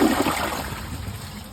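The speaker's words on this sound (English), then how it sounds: "let's see how this Glacier Bay Dual Flush toilet does on this" A Glacier Bay dual flush toilet flushing, a loud rushing gush of water up close that settles into a steady swirling drain.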